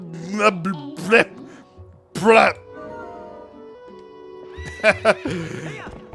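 Horse neighing in The Legend of Zelda: Twilight Princess HD, several loud whinnies in bursts near the start and end, with speech mixed between them.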